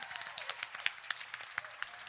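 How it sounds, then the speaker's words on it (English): Sparse, faint clapping from a small audience at a live Nashville music show, a scattering of distinct individual claps rather than a full ovation, lasting only a couple of seconds. "Can we get a round of applause for that?"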